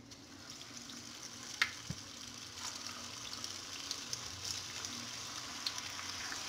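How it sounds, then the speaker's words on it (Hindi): Cabbage Manchurian balls fry in hot oil in a kadhai, giving a steady soft sizzle and bubbling with a few sharp pops and clinks along the way. No one speaks. "तो चलिए अपने वेज मंचूरियन फ्राई करते हैं, कैबेज के मंचूरियन।"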